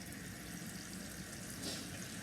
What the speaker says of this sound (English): And then I'm just going to add some water to it.